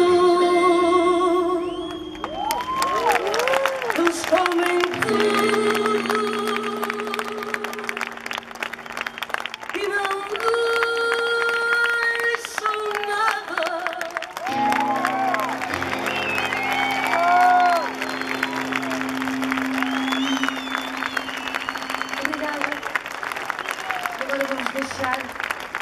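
A crowd at a 2015 fado concert applauds and cheers after a song. Sustained clapping runs under lingering musical tones and voices for about twenty-five seconds.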